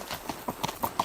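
A sure-footed horse walks on a gravel road, hooves clip-clopping in a steady rhythm of four close, crisp strikes.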